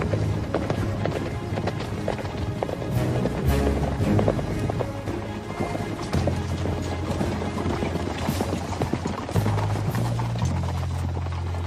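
Horses gallop in a steady rapid rhythm of hooves, dense and continuous, with low musical tones underneath throughout, fairly loud and close.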